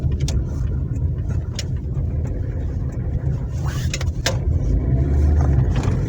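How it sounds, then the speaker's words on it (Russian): Cars pass along a busy residential street near a school, a continuous low traffic rumble with a few brief higher swishes, heard from the sidewalk while someone walks. "Машин очень много."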